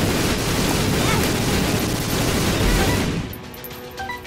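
Dense, continuous barrage of explosions in The Binding of Isaac: Rebirth, loud and crackling for about three seconds before cutting off abruptly into quieter game sounds.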